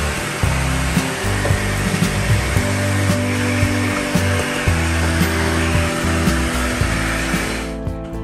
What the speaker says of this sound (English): Now using a vacuum cleaner, we're gonna clean everything off